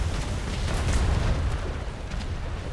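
Ship cannons fire in a Royal Navy roleplay game, a loud dense roar of booming discharges blending into one continuous rumbling blast, close and heavy, with no voices during it.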